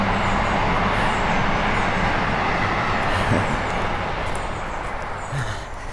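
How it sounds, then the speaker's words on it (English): A train passes by outdoors on a sunny dog walk, a steady, broad rumble of wheels and carriages holding loud and close for several seconds before easing slightly, with no talk over it. "There goes the train."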